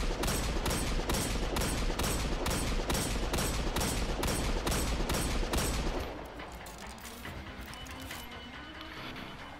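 The Austringer hand cannon fires steady, evenly paced rounds at range, about a dozen loud, sharp shots in a regular rhythm that stop abruptly, leaving softer background noise.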